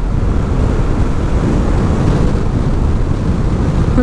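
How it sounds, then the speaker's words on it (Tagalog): Strong wind roars loud and constant while riding along a coastal road, a dense broad rushing buffet with no gaps and no voices. "Lakas ng hangin."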